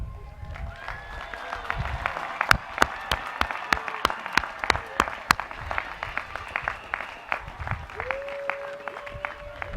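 Commencement audience at Delaware State University applauding for the graduates, a steady crowd clapping with a few loud sharp claps standing out near the front, and a faint voice or whistle in the background.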